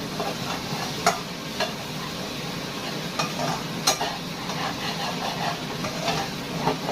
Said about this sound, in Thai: ผัดให้มันเข้ากันตามมาตรฐาน